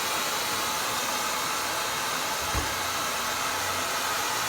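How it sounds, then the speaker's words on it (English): A handheld hair dryer runs continuously during a blowdry of medium-length hair, a loud, close, even whoosh with a brief low bump partway through. "I'm never taking the blow dryer off the head"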